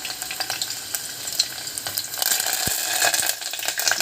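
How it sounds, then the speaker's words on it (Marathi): Garlic sizzling and crackling in hot oil during tempering, with close bright popping and occasional stirring clicks. "आता आपण लसूण टाकूया आणि त्याच्यानंतर टाकू आपण कढीपत्ता"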